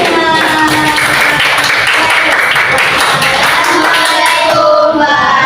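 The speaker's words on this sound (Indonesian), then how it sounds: "Oke, tepuk tangan semuanya." A classroom group claps hands together after a presentation, dense steady clapping running throughout at close range with some voices mixed in before it trails off near the end.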